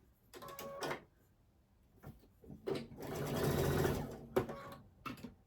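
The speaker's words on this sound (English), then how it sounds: "And we're going to sew all the way down." Sewing machine stitching a 1/4-inch seam down pre-cut quilt pieces for a hen house quilt; short mechanical runs of stitching, then one longer steady whirring burst, followed by a few brief clicks and handling noises.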